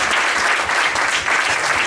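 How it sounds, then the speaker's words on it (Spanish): Steady audience applause at a talk on the origins of handball in Puerto Sagunto, dense continuous clapping from a crowd at fairly loud level throughout. "aplausos para todos"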